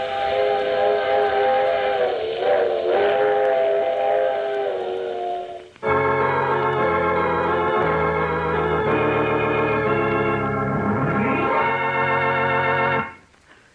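A train with whistle, used as a radio drama sound effect: a loud, sustained multi-tone whistle blares close by, pauses briefly, then returns as a fuller, chord-like blast over rumbling rail noise before stopping.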